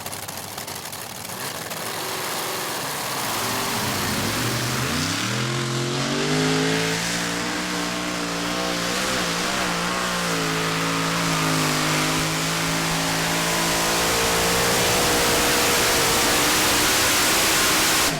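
Modified pulling tractor in the 2T5 Modified class roaring down the track at a 2014 European Championship tractor pull in Bouconville, a loud sustained engine howl that climbs in pitch and holds steady for the whole run, with no talk.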